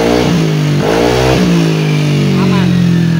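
Hot car engine revved in short bursts during a radiator coolant check, three rising roars that settle into a steady loud idle, close to the engine bay.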